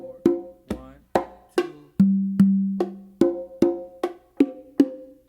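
Bongos and congas play a steady tumbao pattern of sharp, resonant slaps and open tones, with two longer booming low notes in the middle.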